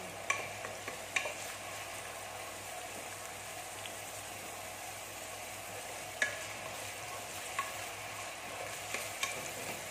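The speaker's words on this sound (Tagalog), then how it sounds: "haluin lang natin para hindi masunog" Garlic browns in a pan for pancit palabok, a soft sizzle under quiet, intermittent scraping stirs and light taps of a spatula.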